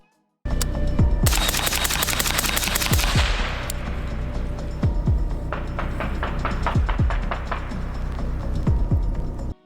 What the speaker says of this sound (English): If a rifle caliber is firing supersonic rounds, you hear those shots.